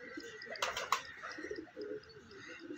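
Pigeons coo softly and repeatedly close by in a loft, their low rolling calls layered with a few sharper chirps and faint background noise.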